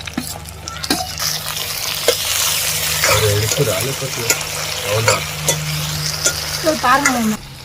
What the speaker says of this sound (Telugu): ఇలా ఇవన్నీ మంచిగా నూనెలోనే మంచిగా ఉడకాలి.